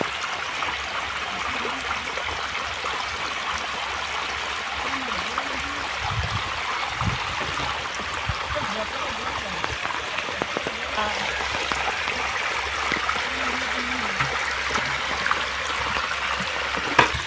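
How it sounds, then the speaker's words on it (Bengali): Water steadily flowing and trickling into a pond during pond fishing, a constant soft splashing wash that runs on unbroken and fairly quiet throughout. "পুকুরে জল ধরা হচ্ছে"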